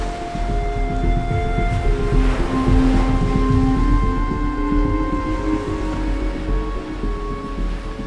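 Ocean waves wash onto a beach on a desert island in the video game Fallout 4. The surf rumbles in a loud, continuous roar that swells and recedes, with a steady hum running underneath.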